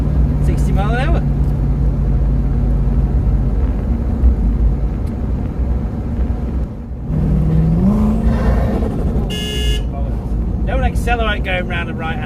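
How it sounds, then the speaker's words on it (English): A turbocharged Lexus LS400 with wide arches accelerates through a right-hand bend, its engine a loud, steady drone that climbs in pitch partway through, while voices talk over it inside the car. "Accelerate going round the right hand bend."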